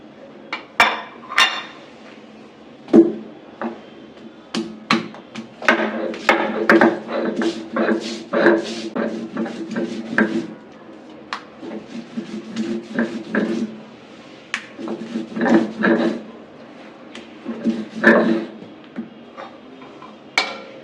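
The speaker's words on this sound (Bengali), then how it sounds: "এখন বাটবো রসুন, পেঁয়াজ।" Garlic and onion are crushed by hand with a stone on a flat grinding slab, giving a long run of rapid, irregular knocks and scraping taps, loud and close, with no speech.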